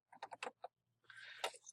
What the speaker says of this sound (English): let me type this in